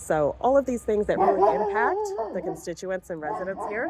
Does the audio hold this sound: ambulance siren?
no